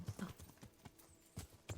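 Horse hooves in the Kingdom Come Deliverance video game thudding down heavily after a stationary jump, a quick cluster of low clip-clop impacts followed by a couple more spaced hoof landings.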